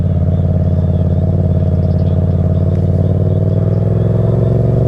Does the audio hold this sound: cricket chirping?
no